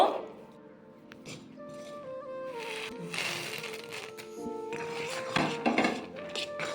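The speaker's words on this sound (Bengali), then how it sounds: "এবারে বাদামগুলি দিয়ে দেবো" Peanuts tip into melted jaggery in a pan with scattered clinks and scraping of a utensil against metal, a quiet, busy clatter spread across the whole stretch.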